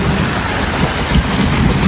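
Heavy rain pours down in a steady, loud, dense hiss with low rumbling beneath, continuous and close, with no voices.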